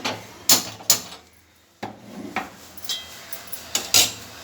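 A wok (kadai) is set down and shifted on a gas stove, giving a series of sharp, close clanks and knocks scattered unevenly over a few seconds, with no speech.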